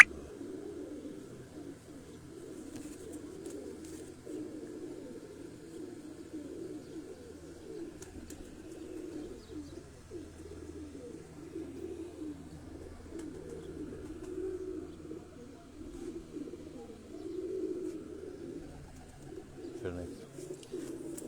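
Pigeons coo in a loft, a soft, continuous murmur of low rolling calls from several birds close by, with a faint voice and small knocks now and then.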